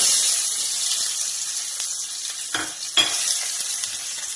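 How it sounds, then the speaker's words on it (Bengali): Potato and eggplant are tipped into hot oil with dry red chilli, bay leaf and cumin, giving a constant bright sizzle with two short clattering stirs near the end. "এবার আলু বেগুনটা ওর মধ্যে মিশিয়ে দেব।"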